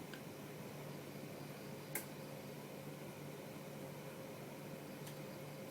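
A desktop PC in a Cooler Master Elite 120 case runs with a faint, steady low hum close up in a quiet room, with a couple of tiny ticks.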